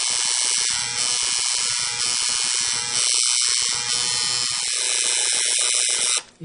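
Tattoo machine running steadily while shading black ink, a continuous close electric buzz with a dense high whine that holds through the whole stretch and cuts off abruptly near the end.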